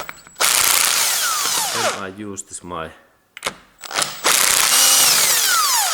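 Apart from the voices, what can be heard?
electric drill driver running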